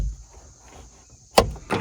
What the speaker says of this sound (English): We'll push our door open.